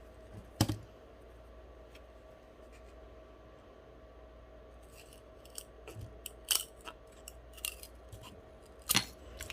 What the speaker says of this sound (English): I'm just cutting with my heavy-duty scissors.